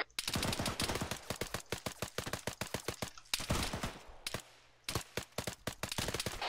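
Rapid bursts of gunfire in the video game Arma 3, during a jungle warfare firefight: dense automatic volleys of sharp, loud cracks, a brief lull near the middle, then another fast stream of shots.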